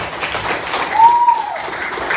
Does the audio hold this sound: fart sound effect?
no